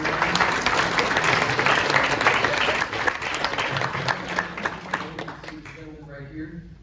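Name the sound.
audience applause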